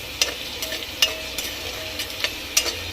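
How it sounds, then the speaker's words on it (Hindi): Rice with garam masala frying in a pan, a soft steady sizzle punctuated by sharp spoon scrapes and clinks against the metal every half second or so, close and moderately quiet. "अब इसको हम खूब भूनेंगे।"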